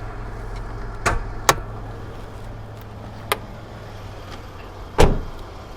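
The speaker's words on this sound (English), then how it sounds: "Pop the hood." Hood release clunks on a 2002 Toyota 4Runner SR5 4x4, a few sharp isolated clicks and thumps spaced over several seconds, the last a heavier near pop, over a steady low hum.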